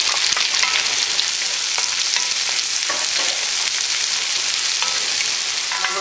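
Two chopped red onions sizzling loudly in an oil-filled pan while being stirred, a steady close frying hiss with scattered scraping clicks throughout.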